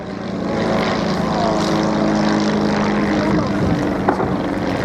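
Propeller aircraft fly low past the crowd at Shoreham Airshow, a loud, steady engine drone with a faint changing pitch and brief wind noise near the end.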